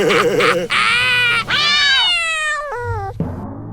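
A cartoon cat in an animated show meows several times in a row, drawn-out and wavering, some calls rising and falling, loud and close with no talking.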